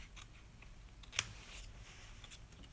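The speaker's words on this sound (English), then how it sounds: "I'm going to cut it straight down the middle" A single sharp snip of scissors cutting through a piece of Bermuda Bay cardstock, heard once, near and clear against quiet room tone.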